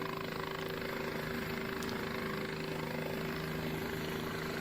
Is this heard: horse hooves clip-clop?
no